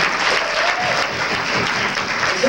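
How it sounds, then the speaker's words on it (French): A live audience at an amateur theatrical improvisation match in Saint-Hyacinthe applauds the orange team, a dense, steady wash of clapping that holds at full strength for the whole stretch with no voices on top. "On applaudit très fort, s'il vous plaît, l'équipe des oranges."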